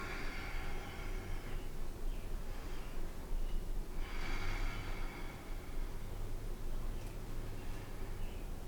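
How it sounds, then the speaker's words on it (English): Slow, deep breathing while holding a squat with thighs parallel to the ground, breathy noise swelling in a few long inhale-exhale cycles over steady background hiss. "Let's take a couple more breaths here."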